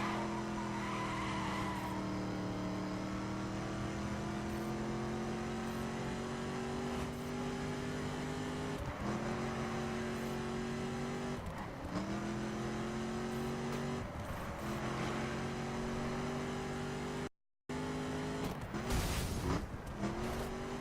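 A 99 Dodge Charger RT in a racing video game squeals its tires again and again through corners, its engine droning and shifting pitch between repeated skids, loud and continuous with no talking.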